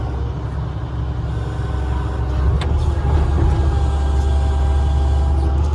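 A John Deere Hitachi 200 excavator fitted with a thumb idles steadily, its diesel engine giving a loud, constant low rumble close by with no talk.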